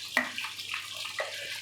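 Hot water poured over chicken kebab balls in a pan, heard as short splashy gushes and trickling water, close by, with a brief second pour near the end.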